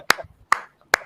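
Three sharp, isolated claps spaced evenly about 0.4 seconds apart, close and crisp, from an audience at a debate, with brief low murmurs between them.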